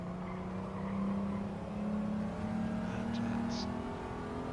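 Engine drone from an Audi TT being driven in the racing game Gran Turismo 7, a steady mid-level hum with slight rises in pitch as the car accelerates, running continuously with a faint voice in the background.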